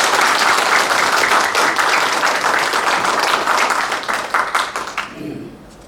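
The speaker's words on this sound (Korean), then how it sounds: "뜨거운 박수로 환영해 주시기 바랍니다" A large audience at a seminar opening claps loudly and steadily to welcome a guest speaker, a dense wash of applause that thins out and fades near the end.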